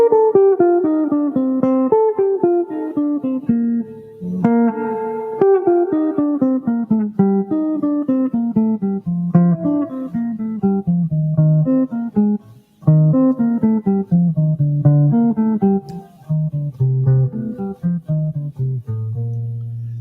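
An acoustic guitar plays a flowing scale exercise, quick single notes rising and falling in steady runs for the full length, close and fairly loud without speech.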